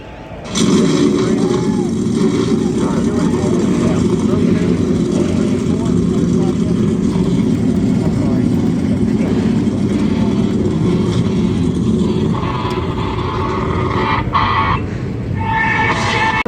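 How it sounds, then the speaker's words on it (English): NASCAR race cars starting their engines at the Monster Mile for the Bet Rivers 200, a loud sustained roar from many engines holding steady for most of the stretch, with crowd or announcer noise mixed in near the end. "drivers, start your engines"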